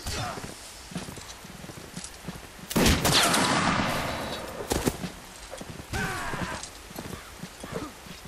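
Musket volley fire in a line-infantry video game: a loud crackling fusillade bursts out about midway and rolls on for roughly a second, with scattered single shots before and after and horse hooves and voices in the background.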